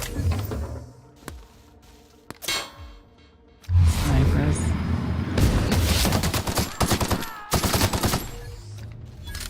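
Enemy gunfire in The Outer Worlds, with a few isolated shots followed by loud, rapid bursts of automatic fire and metallic clangs, close and repeated in rattling volleys.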